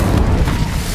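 An Incendio fire spell blast in Hogwarts Legacy, a single loud, deep whooshing burst of flame that fills the whole moment with a roaring, rumbling texture.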